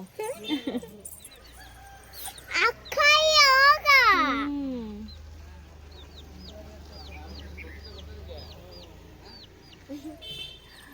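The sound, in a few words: chicks and hens clucking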